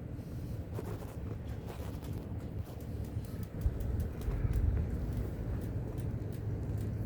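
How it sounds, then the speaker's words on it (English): Wind rushes and buffets the microphone in a continuous low roar, swelling briefly about midway, with no voices. "The wind is at my front."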